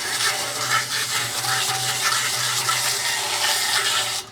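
A hose pours water into a cement mixer at a barn house building site, giving a steady, loud, continuous rushing gush that lasts the whole moment with no talking.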